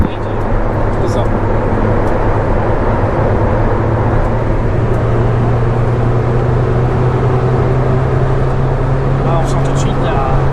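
A Honda Prelude engine drones steadily from inside the car while accelerating on the road, with a loud continuous low hum and rising tonal note throughout.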